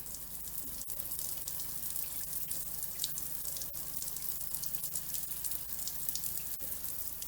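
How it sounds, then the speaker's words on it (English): Water running steadily while a Mira Advance ATL thermostatic shower is primed, a constant hissing spray with faint splashes and a few soft clicks, fairly quiet and alone. "Whilst you're priming the shower, make sure you've got no leaks from your filter."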